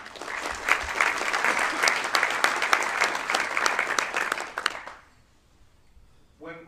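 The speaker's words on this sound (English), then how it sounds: "So give him a round of applause." Sustained applause from an audience at a Kentucky golf association awards presentation, dense clapping lasting about five seconds before cutting off to near silence, with a brief voice starting at the end.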